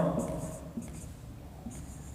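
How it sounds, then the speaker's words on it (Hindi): A marker or chalk scratches across a board during a physics lecture on alternating current, giving three short strokes with pauses between, close and clear, while a voice fades at the start. "यहाँ पर हम लिखते हैं"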